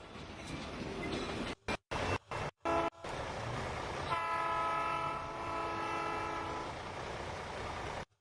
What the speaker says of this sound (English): That locomotive looks familiar.